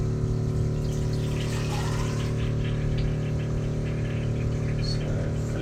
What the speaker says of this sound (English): Filling up with a bit of water.